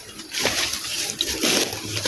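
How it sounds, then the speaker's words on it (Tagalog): Feet wade through a shallow stream, giving short, close splashes and sloshing water over about two seconds, with no talking. "May sapa na dito ka dyan, te."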